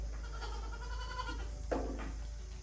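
A female goat in heat bleats in a wavering, drawn-out call, followed by a shorter second bleat, at moderate distance over a steady low hum.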